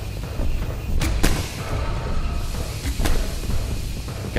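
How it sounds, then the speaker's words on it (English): Gunfire in the horror video game Poppy Playtime Chapter 3, a few sharp loud shots spaced over a few seconds against a steady rumbling game background. "Okay, I should stop shooting."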